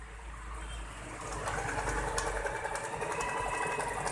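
A Usha Janome Allure automatic sewing machine runs through a stitch demonstration, giving a steady close-up mechanical whir that grows slightly louder partway through and holds without pause.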